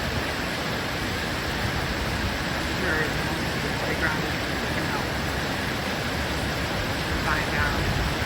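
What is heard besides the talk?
creek flooding during Hurricane Helene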